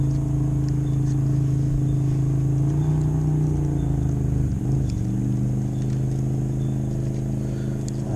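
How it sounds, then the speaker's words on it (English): Boat engines drone steadily across Pine Flat Lake, a continuous low rumble with a slight rise and fall in pitch, heard from a distance with no talk over it. "Boats are out today."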